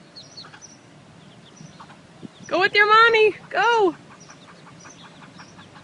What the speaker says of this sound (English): We got ducks crossing.